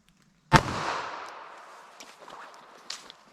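A .380 ACP pistol fired into ballistic gel placed behind quarter-inch medium density fiberboard: one sharp, loud bang with a fading ring-out, then faint handling clatter and a small knock near the end.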